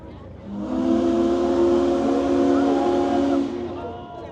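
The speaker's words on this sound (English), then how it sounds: "Why don't we blow the whistle one more time?" The Union Pacific Big Boy 4014 steam locomotive sounds its deep chime whistle once at a display day, a single loud sustained blast of about three seconds over a steady hiss of steam.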